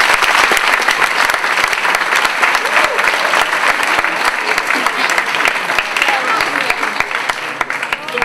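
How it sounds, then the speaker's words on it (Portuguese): A big audience breaks into loud, sustained applause, dense clapping filling the room evenly from start to finish with no speech over it. "merece uma enorme salva de palmas"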